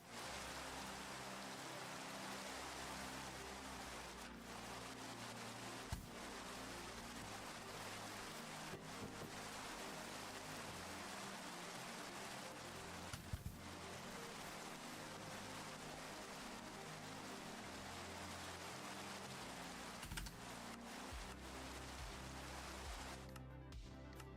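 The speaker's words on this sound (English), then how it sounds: "You hear the rain more than the music?" Steady rain patters continuously on a surface for the whole stretch, a dense hiss with no break in it and occasional faint knocks in the background.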